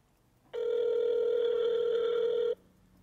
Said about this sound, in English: Your call has been forwarded to an automated voice message.